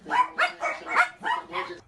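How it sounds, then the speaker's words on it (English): Several small dogs at a squalid hoarding property bark and yip in quick succession, six sharp overlapping barks over two seconds, close and fairly loud with no talk. "Room after room littered with small dogs."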